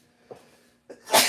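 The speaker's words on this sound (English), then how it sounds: "Oh, we sneeze." A single close sneeze, preceded by two short sharp inhales, ending in a loud explosive burst.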